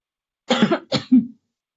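A couple of short, close coughs, with a brief throat-clearing sound after them.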